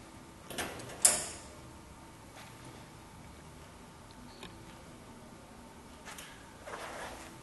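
Filter compartment of a WeldFilter C10 welding fume extractor being opened: a sharp metallic latch click followed by a few faint clunks and a soft sliding rattle, close but quiet, with no speech.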